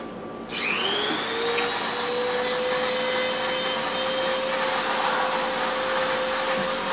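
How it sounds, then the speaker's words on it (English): A small Dremel rotary tool spins up with a rising whine and then runs steadily as it sands and cleans the edges of a guitar inlay, giving a continuous high-pitched buzz close to the mic. "I'm going to take my little Dremel tool here and I'm going to plug this in so I can sand and clean my edges off"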